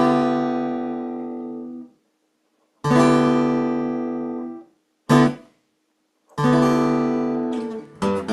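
A harmonica imitates a diesel locomotive's crossing whistle: two long chordal blasts, a short one and a final long one, loud and close with silent gaps between them.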